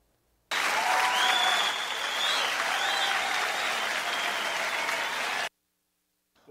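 Studio colleagues on a sports broadcast applaud together in a steady, dense burst of clapping lasting about five seconds, then it cuts off abruptly to silence.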